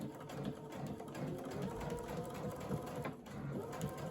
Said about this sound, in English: And we will start sewing.